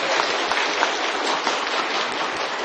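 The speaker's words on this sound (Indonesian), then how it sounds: "Boleh tepuk tangan dong." Studio audience applause at a Ramadan television show, a steady, dense wash of clapping lasting a few seconds, fairly loud and without any voices.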